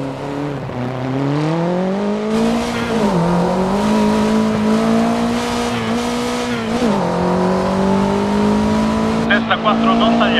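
A Renault Alpine A110 rally car engine in the video game Dirt Rally revs loudly and continuously, its pitch rising and falling through gear changes, with tire noise underneath.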